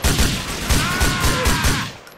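Rapid gunfire from the video game GTA 4, a dense fusillade of repeated loud shots in a steady rhythm filling the short span, close and dominant with no talk over it.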